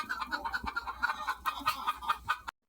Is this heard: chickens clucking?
yes